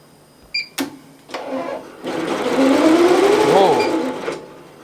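A multi-head embroidery machine runs with rapid mechanical stitching clatter that builds into a steady loud whir, preceded by a few sharp clicks and beeps and overlaid by rising and falling tonal motor sweeps.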